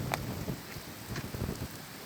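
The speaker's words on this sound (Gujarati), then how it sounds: "વાદળ ભૂકા કાઢી નાખે એવો વરસાદ છે" Heavy monsoon rain pouring down outdoors, a dense, steady wash of drops hitting surfaces, fairly quiet and close with no voices.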